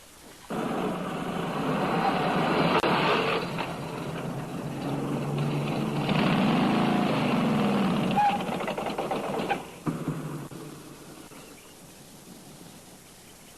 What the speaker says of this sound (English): Motorcycle and sidecar can get through some pretty small places.